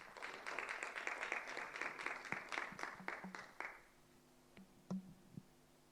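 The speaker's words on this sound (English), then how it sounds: "We can give her a round of applause." A small audience at a FIDA-Kenya LSK vice presidential debate gives a brief round of applause, quiet and thinning out into a few scattered claps before fading.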